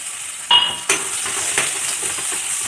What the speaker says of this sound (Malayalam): അപ്പോൾ അതിലേക്ക് എണ്ണ ഒഴിച്ചു. ഇനി നമുക്ക് കടുകും ഉള്ളിയും കാര്യങ്ങളൊക്കെ ഒന്ന് കുത്തി വറുത്തിടാൻ വേണ്ടി നിൽക്കാം